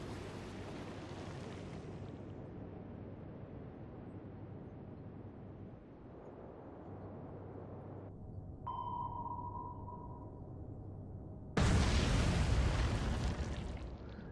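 Torpedo hits sink U-boats in the Atlantic Fleet naval game: a steady low rumble with a sonar ping tone midway, then a sudden loud, broad blast that sustains to the end.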